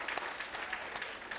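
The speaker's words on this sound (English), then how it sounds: "Everybody can clap for that." An audience at a contemporary romance author event claps briefly and at a moderate distance, a soft patter of hands with no voices over it.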